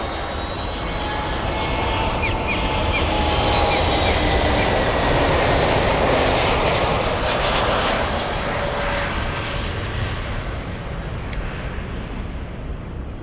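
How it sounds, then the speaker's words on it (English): American Airlines flight 621 from Los Angeles, a jet airliner arriving at Miami International, roars loud and steady at close range, its engine noise swelling to a peak midway before easing slightly. "Just in time for the American flight, American 621, flying in from Los Angeles"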